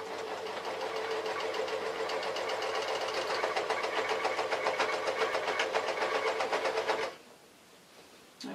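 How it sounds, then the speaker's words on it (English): A sewing machine stitches around a pillbox hat, a fast, even mechanical chatter that runs steadily for several seconds and then stops abruptly, leaving near quiet. "I'm just going to sew around again"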